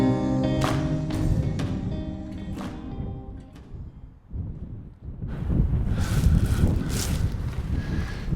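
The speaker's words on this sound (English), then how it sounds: "Super windy and cold day up here." Strong cold wind buffeting and roaring in the hills of Zamora, Spain, rising in gusts toward the end, with tonal sounds fading out early on; no one speaks.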